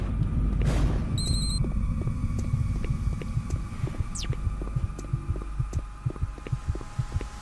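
Slow, steady heartbeat thuds pulse through a dark ambient hum in DOOM 3, beginning after an early boom and repeating in an even, throbbing rhythm near the end, with no talk over it.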